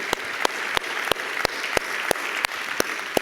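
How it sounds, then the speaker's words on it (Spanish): A church congregation claps during a sermon on biblical meditation: a steady clapping texture cut by sharp, loud, regularly spaced claps about every third of a second, like one pair of hands beating time. "Dale un fuerte aplauso al Señor."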